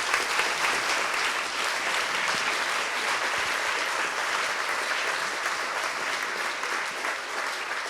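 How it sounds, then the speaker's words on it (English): An audience at a climate conversation event applauds a panel, a steady, full round of clapping that holds evenly for about eight seconds with no talk. "can we all have a big round of applause for the super panel?"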